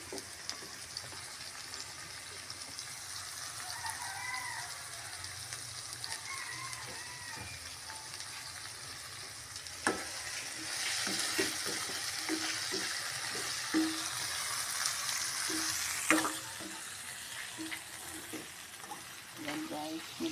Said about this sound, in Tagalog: nilagay ko ng ampalaya, hinalo ko at takpan ko ito para magluto